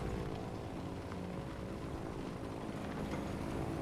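Aircraft droning in a video game featuring the German 8.8 cm Flak 37 self-propelled gun on an 18-ton half-track, a steady faint propeller hum mixed with vehicle rumble, continuous and without speech.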